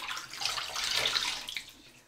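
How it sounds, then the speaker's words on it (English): Water splashes as a face is rinsed in the shower after a shave, a brief close hiss of running water that swells and fades over a couple of seconds. "Rinsing the face."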